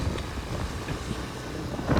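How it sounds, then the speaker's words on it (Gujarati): Wind buffets the microphone outdoors on a hot day along a street, a steady low rushing roar that swells slightly toward the end, with no voices. "પવન છે આજે સારો એવો"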